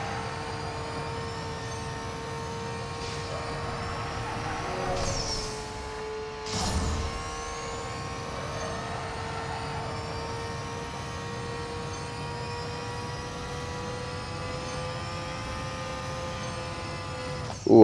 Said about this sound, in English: But there goes another jet.